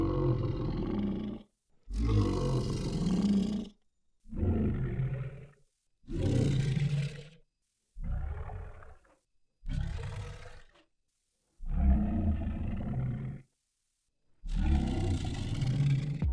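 Recordings from a Sanken ultrasonic microphone pitched down progressively lower into deep monster-like roars; seven loud, growling bursts of about one to two seconds each, separated by short silences, with no talking.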